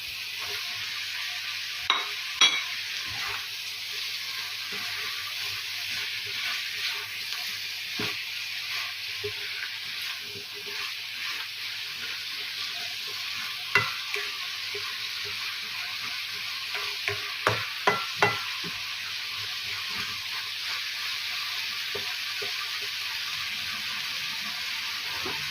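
String beans (sitaw) with a little meat sizzle steadily in a pan, with scattered scraping and clinking stirs now and then over the constant frying hiss, close and fairly quiet.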